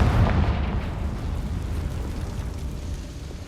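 A Confringo fire spell explodes in the Hogwarts Legacy video game. One deep booming blast hits at the start, and its rumbling tail fades slowly over the next few seconds.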